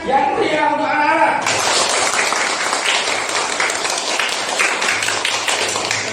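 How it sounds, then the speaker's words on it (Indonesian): A classroom group claps for children in a lively, continuous round of applause at close range, with a brief voice heard just before the clapping starts. "Sekali lagi beri tepuk tangan yang meriah untuk anak-anak."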